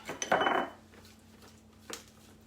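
A spatula scrapes down the sides of a Thermomix bowl holding a lemon and garlic slaw dressing, a close, loud scraping burst followed by a softer second scrape over a faint steady hum.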